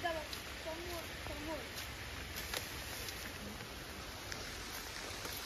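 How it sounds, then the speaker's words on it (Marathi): Steady rain falls on a farm with mango and cashew trees across the whole stretch, a soft even hiss with scattered drops, while faint birdsong and a voice sit in the background. "मस्त पाऊस पडतोय"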